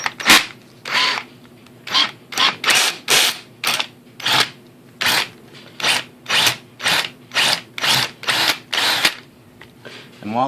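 Drill with a bigger bit boring through a pin hole in a Crosman Nitro Venom air rifle sling mount, with WD-40 applied: about twenty close, loud bursts of rasping grind in a fast, uneven on-off rhythm.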